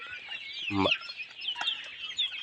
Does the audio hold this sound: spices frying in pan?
no